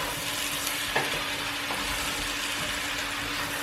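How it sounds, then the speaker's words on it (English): Chopped onion fries in a pan for an Andalusian cuttlefish stew, giving a steady hissing sizzle broken by a few soft scraping stirs. No one speaks. "A good stir in the bay leaf."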